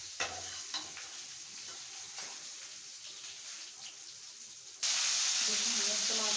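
Tomatoes are added to a pan of fried ginger-garlic paste for baingan bharta. A low sizzle carries a few scraping stirs, then jumps abruptly to a louder, brighter hiss near the end, with no speech.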